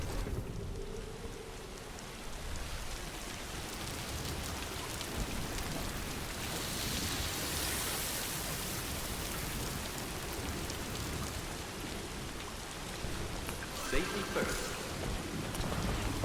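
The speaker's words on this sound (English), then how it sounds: "We're just gonna take a walk in the rain for now" Steady rain pours down in Death Stranding 2, a dense, continuous hiss of drops on surfaces with faint thunder, while a voice briefly speaks over it.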